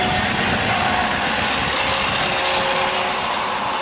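A VMAC VR70 belt-driven underhood air compressor running on an upfitted Ford Super Duty truck, a steady close engine-like drone with broadband mechanical noise and no talking.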